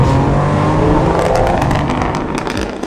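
A D3 BMW M3 Touring with a Stage 2 tune roars loudly and close, its engine droning steadily as it accelerates, with sharp crackling pops from the exhaust layered on top toward the end.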